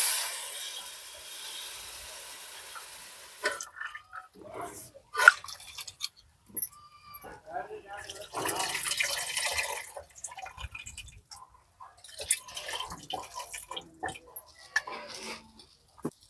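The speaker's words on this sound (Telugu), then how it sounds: "ఇప్పుడు ముందుగానే పిసుకు పెట్టుకున్న ఇప్పుడు చింతపండు గుజ్జు" Soaked tamarind pulp is squeezed by hand and added to a prawn and raw mango dish, giving soft, intermittent wet squelches and drips close up, with quiet gaps between.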